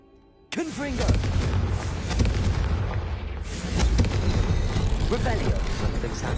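A Confringo spell explosion in Hogwarts Legacy starts abruptly and loudly, then rolls on as sustained booming rumble for several seconds, with further blasts and no clear speech.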